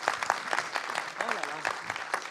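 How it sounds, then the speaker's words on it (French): An audience applauds at a French stage show, a light scattering of hand claps mixed with a voice talking over it. "si vous voulez l'applaudir, oui, allez-y"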